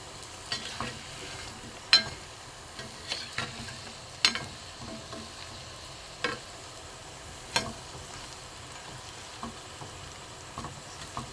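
Mung dal balls fry in a pan for a rasmalai sweet, a quiet steady sizzle broken by sharp occasional clinks and stirring knocks, with no one talking.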